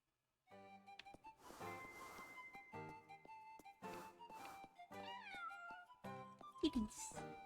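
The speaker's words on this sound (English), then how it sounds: "Kitties." Cats meowing in the video game Little Goody Two Shoes, several short repeated meows over soft game music, with a livelier burst of mews near the end.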